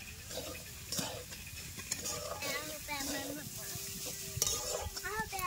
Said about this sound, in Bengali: আমি এবার পুর বানানোর জন্য নারকেলটা দিয়ে দেবো কড়াইতে